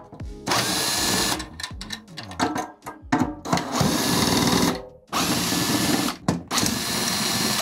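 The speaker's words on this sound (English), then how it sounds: "as far as using a power drill on your drum, I only use it when I'm removing the head" Loud power drill whirring in repeated bursts as it removes the head screws from a snare drum, starting and stopping with brief pauses, close up and mechanical.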